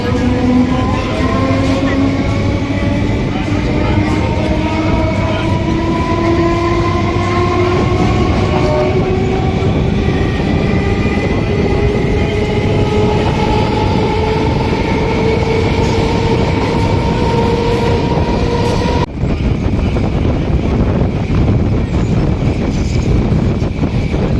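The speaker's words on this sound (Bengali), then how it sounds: "ট্রেন এখন ছেড়ে দিল পলাশি থেকে" A passenger train pulls away from Palashi station, its engine tone rising steadily with a loud continuous rumble and rattling wheels close by, then a sudden shift in the noise.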